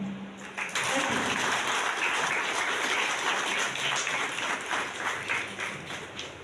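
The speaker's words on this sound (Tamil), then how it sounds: "அரங்கமே கைத்தட்டலை அதிர்ந்து பார்ப்போரை வியக்க வைத்தது" Audience applause in an auditorium at an award ceremony bursts in after a brief moment and continues loud and sustained, a dense wash of many hands clapping.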